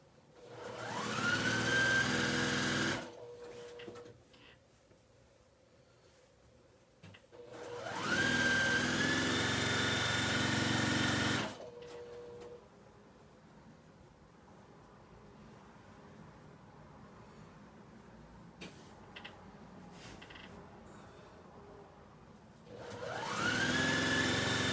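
A sewing machine stitching in steady, motor-driven runs of several seconds each, alternating with quieter pauses.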